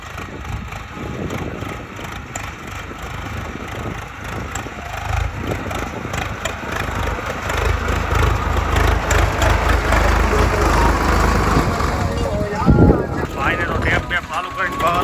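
A farm tractor hired for spreading fertilizer runs with a low, steady engine rumble that grows louder over time, with rustling, wind buffeting and someone speaking nearby.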